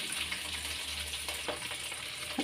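Mudakathan keerai greens and a handful of curry leaves fry in sesame oil in a pan for a herbal thuvaiyal, producing a steady, quiet sizzle with a soft stirring rustle and a low hum underneath.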